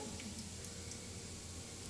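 A steady, close hiss of cumin seeds sizzling in hot oil, constant and fairly quiet, with no one speaking.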